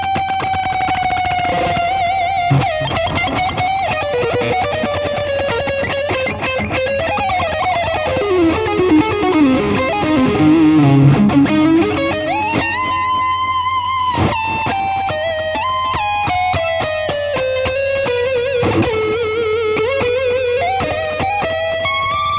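Electric guitar solo with a fast, dense run of notes bending up and down, a loud sustained distorted tone with heavy effects and no voices.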